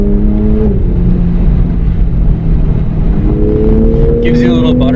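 A 2020 Toyota Supra MK5 engine pulls hard, its pitch climbing through a gear, dropping on a shift, then rising again, loud from inside the car with a person speaking over it.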